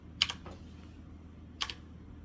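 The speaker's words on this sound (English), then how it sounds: "let's type in root" Keys on a computer keyboard are struck at a Linux login prompt: two quick clusters of crisp clicks with a pause between them, close and fairly quiet, with no talk.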